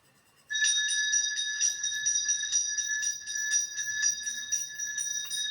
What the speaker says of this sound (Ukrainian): Кого немає дзвіночка, той дзвони віртуальним дзвоником.